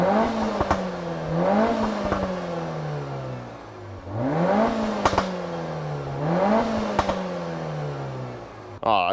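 A Peugeot 308 GTi's turbocharged THP engine revs up three times in repeated swells, climbing in pitch and then falling back to idle, loud and close with light clattering in between.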